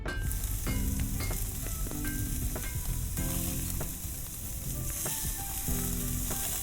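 Food sizzles and fries steadily in a hot pan in the game Love and Deepspace. Scattered metallic clinks from the cooking ring out over the continuous hiss.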